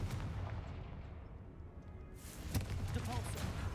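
In the Hogwarts Legacy video game, a Confringo fire spell goes off as a booming, explosive blast about two seconds in, rising out of quieter game ambience and fading with a rumbling tail.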